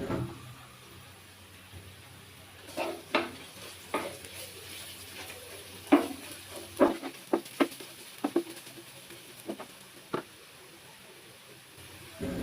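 Ground cumin, coriander, red chilli and turmeric being stirred into frying onions for an egg masala, with a soft background sizzle broken by a run of sharp spoon scrapes and taps against the pan.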